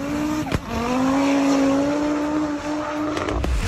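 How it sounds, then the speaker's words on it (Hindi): A damaged racing car roars past during a race, its loud, steady engine whine holding close and sustained, with a sharp transient near the start and a tire squeal or skid texture mixed into the engine noise. "ये रेसिंग कार टूटने फूटने के बावजूद रेस में शामिल रहती है।"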